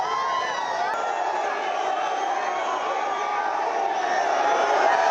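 A large roadside crowd cheers and chants for Prime Minister Modi's visit to the Udupi Sri Krishna Mutt, calling out Jai Shri Ram; a dense, continuous roar of many voices holds steady throughout.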